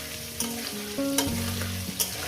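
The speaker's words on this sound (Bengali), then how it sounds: "এটা আমি সুন্দর করে পাঁচ মিনিট আমি আলুটাকে ভেজে নিয়েছি" Potatoes frying in hot oil for a spicy rohu fish curry, a steady close sizzle with a few scraping stirs of a spatula against the pan, no talking.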